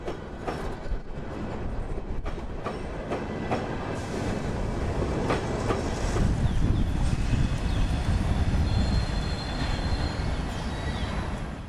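Freight train B341 passes close by with a heavy, continuous rumble and clickety-clack of wheels over rail joints, building slightly louder toward the middle.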